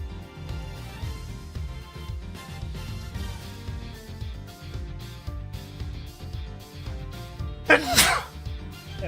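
Over a steady run of game music, one sharp, loud sneeze bursts out near the end, a short explosive blast that stands out clearly above the background.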